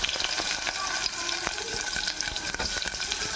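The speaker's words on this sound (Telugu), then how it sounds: "కొంచెం జీలకర్ర, కొంచెం కరివేపాకు వేస్తున్నాను. ఉల్లిపాయ ముక్కలు వేసేసుకుందామండి." Onion pieces frying in hot oil with cumin seeds and curry leaves for an egg potato kurma, a steady close sizzle with a few clinks of a spoon stirring, no talking.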